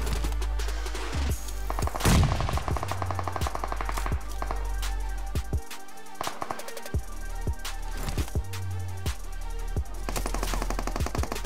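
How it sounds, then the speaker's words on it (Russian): Rapid automatic gunfire in PUBG Mobile, loud bursts of machine-gun shots repeating through the whole stretch with short pauses between volleys and no talking. "Откуда стрельба?"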